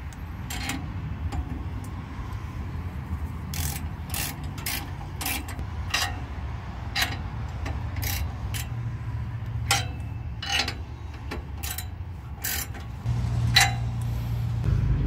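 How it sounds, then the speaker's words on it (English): A deep well socket wrench ratcheting on 14 mm exhaust nuts during a header install on a 6.6L G30 ambulance, with short bursts of sharp clicking repeated irregularly over a low background hum. "these nuts right here are 14 millimeter, and I'm using a deep well socket"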